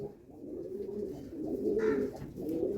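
Madrasi pigeons of the Bengal line, offered for sale in Kolkata, give soft low cooing, continuous and close, with a brief brighter note near the end.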